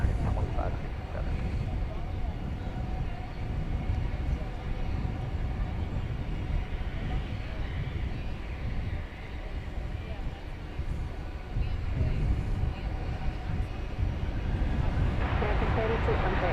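American Airlines jet taking off from runway 18 left at DFW at night, a steady broadband engine roar that holds loud and continuous throughout, with radio chatter faint beneath.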